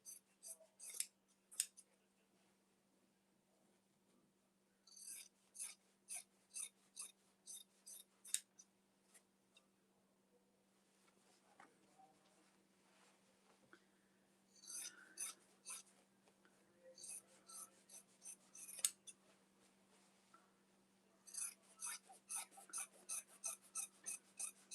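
Scissors trim quilted fabric for a tote bag in close, quiet bursts of quick snips. Runs of crisp cuts are separated by pauses and a faint steady hum, with no talking.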